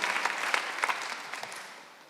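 A church congregation at a Sunday worship service claps in a short burst of scattered applause that fades out over about two seconds.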